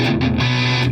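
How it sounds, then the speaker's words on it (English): An electric guitar played through a Fender Mustang GT 100 amp gives a short burst of gritty, buzzing distortion, with sustained harmonic-rich notes shifting once partway through, heard alone and up close. "got that gritty distortion that was kind of missing before"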